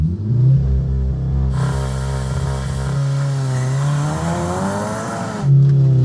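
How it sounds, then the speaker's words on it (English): Volkswagen Golf R fitted with a larger turbo and a loud exhaust, held at about 4,500 RPM and then launched, the engine droning at high revs and climbing as the car pulls away, loud and close. "the reason why the Golf R isn't launching very hard is simply because we put a larger turbo on it"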